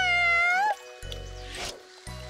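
A cartoon character's voice imitates a cat with one drawn-out, high, sliding meow at the start, followed by brief soft splashing and rustling noises.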